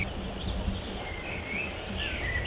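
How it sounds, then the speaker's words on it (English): Birds chirp faintly over a steady outdoor hum in a traditional Romanian mountain village with chickens and a river nearby, high short calls scattered across the clip. "I only hear the sound of the river, the sound of the birds, the chickens, the dogs"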